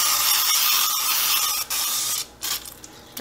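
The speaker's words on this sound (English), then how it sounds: "So I am gonna give this another mist with cooking spray." Cooking spray hisses in bursts over a pan while meal-prepping vegetables, with a long steady spray, brief pauses, then short sputtering spurts as the can runs low.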